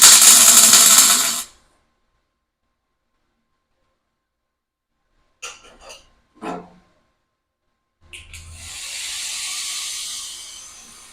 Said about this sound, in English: I'm just cooling off the welds with this little cheap blowgun.